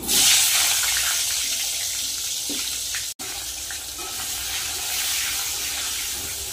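Cut potatoes hit hot fish oil in a pan where fish was just fried, giving a loud, continuous hissing sizzle that holds steady, broken only by one very brief dropout midway.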